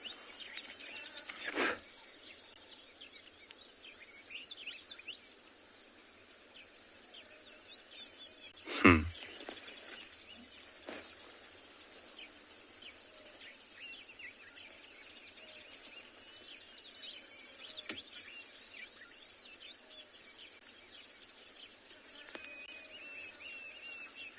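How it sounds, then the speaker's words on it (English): Diederik cuckoo calling far off in the African bush at sunset, faint repeated notes amid soft insect and bird chatter, with a couple of brief louder knocks, no voices. "You can hear Diedrich's cuckoo vocalizing in the distance."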